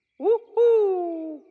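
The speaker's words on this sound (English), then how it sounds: "It's a girl owl." An owl hooting, a cartoon girl owl in a children's animated show: two clear tonal hoots close by, a short rising call followed by a longer sustained, slowly falling one, with no talking over them.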